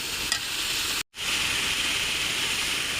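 Spice paste for an eggplant curry sizzles and fries in a pan, a loud steady hiss that cuts out briefly before the sizzling resumes, with no talking.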